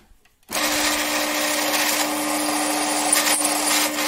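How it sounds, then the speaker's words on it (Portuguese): A power drill fitted with a 12 mm bit cuts a recess into a wooden tabletop, starting abruptly after a brief silence and holding a loud, steady whine to the end. "Broca de 12 milímetros instalada."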